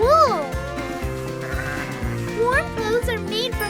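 A sheep on a farm bleats twice, once loudly at the start and again a couple of seconds later, over a steady rhythmic musical background.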